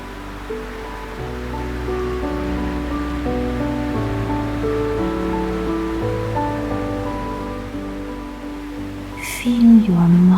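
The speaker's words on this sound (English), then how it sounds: "listen to the sound of waves rolling in before you" Steady wash of ocean waves under soft layered tones, a continuous hushing surf with a brief brighter swell near the end.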